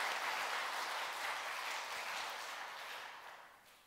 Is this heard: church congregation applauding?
yes